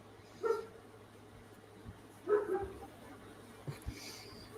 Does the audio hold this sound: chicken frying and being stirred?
no